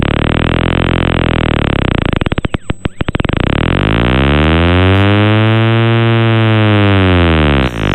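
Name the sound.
buzzing sound played by the Lixo.exe computer virus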